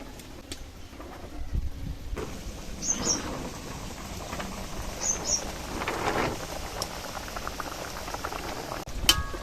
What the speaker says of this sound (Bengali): ঝোলটা ফুটে কিন্তু অনেকটাই কমে গেছে